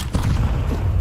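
A grenade blast in a Counter-Strike match, a single loud close boom with a rumbling low tail that fills the whole moment.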